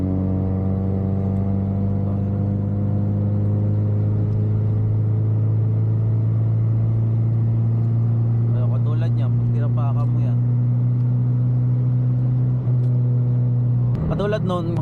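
A car engine under throttle, a loud close droning rumble that eases slightly at first and then holds steady for a long stretch, with brief bursts of talk near the middle and end.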